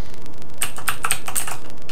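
Fingers type a name on a ZX Spectrum keyboard in quick, uneven bursts of close, clicky keypresses over a faint background hiss.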